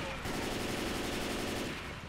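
Rapid automatic gunfire in the video game Left 4 Dead 2, a dense continuous burst of shots that starts abruptly and carries on loud for nearly two seconds.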